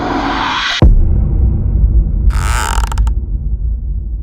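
A 3D printer at work, its steady mechanical hum and motor whine cut off abruptly, then continuing as a lower drone with bursts of ratcheting, gear-like stepper noise, loud and close.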